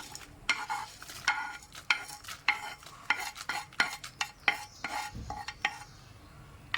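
Steady scraping and stirring as coconut, coriander, chilli and shallots roast in a little coconut oil in a hot pan, rhythmic spoon strokes against metal with a soft sizzle underneath, close by and alone.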